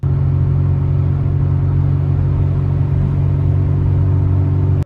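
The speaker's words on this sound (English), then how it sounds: "we kept our foot planted in the 59 horsepower Escort" A 59 horsepower Ford Escort drives on a Scottish road with its foot down, a steady loud engine drone and low road rumble holding constant throughout with no talk.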